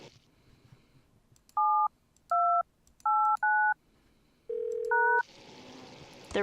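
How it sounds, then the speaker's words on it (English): Cell phone dialing in the Thimbleweed Park video game, a string of crisp keypad tones in irregular rhythm, then a longer tone and a burst of static, up close and without talk. "It's a cell phone."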